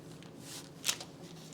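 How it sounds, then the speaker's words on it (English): Parchment paper rustles and crinkles briefly as it is laid into a baking pan, a soft, quiet papery swish with one sharper crackle. "You put parchment paper down so it doesn't make too much of a mess."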